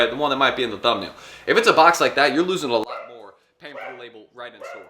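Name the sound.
dogs barking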